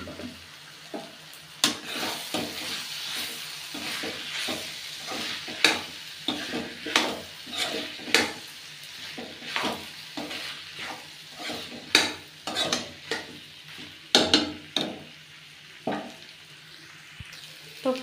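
Potatoes fry in a spicy masala of ground chillies as a spoon stirs them repeatedly, with close, rhythmic scraping over a continuous soft sizzle and no talking.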